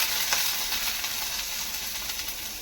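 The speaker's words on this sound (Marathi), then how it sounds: "कांदा लालसर व्हायला लागला की त्यामध्ये लसूण, अद्रक आणि कोथिंबीर घालूया." Garlic, ginger and coriander sizzle in hot oil with browned onion for a village-style brinjal curry, a steady close hiss of frying with faint stirring.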